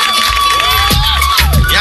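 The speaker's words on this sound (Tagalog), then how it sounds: "Isang sigaw naman dyan, Papa Litoy!" A live crowd at a Filipino talk-show event shouts and cheers loudly and continuously, with children's high yells and whoops rising above the roar.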